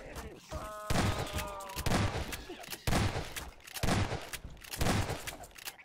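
Repeated magnum gunshots fire in a Gmod co-op zombie game, loud and sharp in spaced bursts, with a voice talking between and over the shots.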